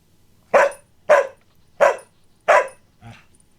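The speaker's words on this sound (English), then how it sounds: "my dog certainly has something to say about Techno" A dog barks four times in a steady rhythm, loud and close, followed by a softer, shorter fifth yelp, with no talking.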